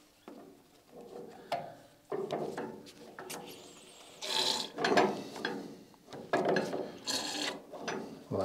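Ratchet wrench tightening fittings on the suspension of a Citroën 2CV (AZU), irregular bursts of clicking and mechanical rubbing from close by, with pauses between strokes.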